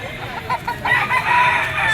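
A Gilmore street comb dark-legged stag rooster crows at a gamefowl market, a ragged, strained call that rises over a steady bed of crowd murmur and background chatter.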